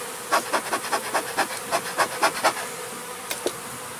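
Busy buzzing of bees at a hive with a steady hum, broken by a series of soft rhythmic rustling thumps, close and fairly loud.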